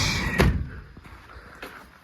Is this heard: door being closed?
yes